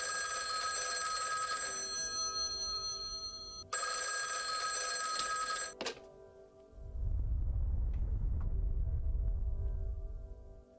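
In the horror game Schrödinger's Call, a telephone rings in two long electronic bursts with a pause between them. A sharp thunk follows, then a deep low rumble swells and fades.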